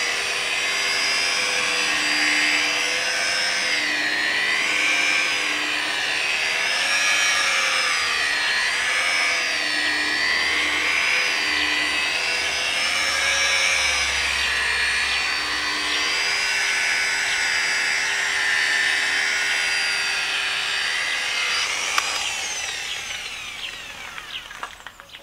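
An electric polisher runs steadily for about twenty-two seconds with its own weight pressing the pad onto the surface, giving a loud continuous whine that wavers in pitch before winding down near the end.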